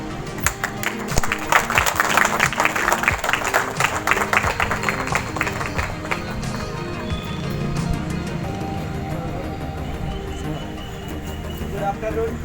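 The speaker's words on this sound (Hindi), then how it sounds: "उन्हें एक जोरदार तालियों से स्वागत करें।" An audience at a team-building event in Bodhgaya claps loudly to welcome the speakers. The dense applause thins out and fades over the second half.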